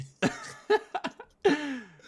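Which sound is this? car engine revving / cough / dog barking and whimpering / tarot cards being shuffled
cough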